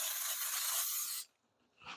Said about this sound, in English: So I use avocado oil cooking spray.